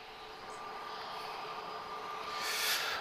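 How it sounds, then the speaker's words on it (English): Airbus A340 airliner on final approach at Lisbon Airport, a steady distant jet roar with a faint whine that grows a little louder toward the end. "So, she's turning on to final now. And we are going to see an A340."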